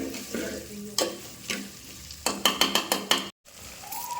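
Onions fry in a pan toward golden brown for a breakfast dish, a soft sizzle under a quick run of spoon scrapes and clinks against the pan, with a brief silent gap near the end.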